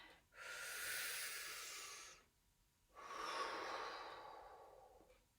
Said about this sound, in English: And take a nice deep breath.